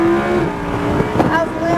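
Lamborghini Huracán engine pulling hard on a Florida race circuit, a loud, continuous rising tone heard from the cockpit with wind and road noise throughout.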